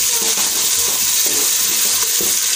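Coriander is stirred into a curry as it fries, making a loud continuous sizzle with soft, irregular scraping strokes of the spoon underneath.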